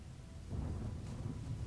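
Thunder from an unnatural storm at sea in a fantasy game: a low, muffled rumble that swells after half a second and rolls on steadily, fairly faint.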